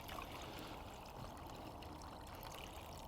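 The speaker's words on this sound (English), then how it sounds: "So I'm going to put 3/4 of a pint of water." Water is poured into a groundbait mix for winter F1 fishing, making a faint, steady trickle that runs for a few seconds.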